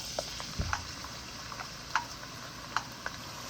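Chopped onions frying in oil in a heated pan, a quiet, steady sizzle with scattered small pops and crackles, one low knock near the start.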